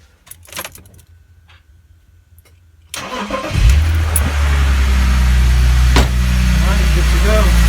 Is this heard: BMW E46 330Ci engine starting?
yes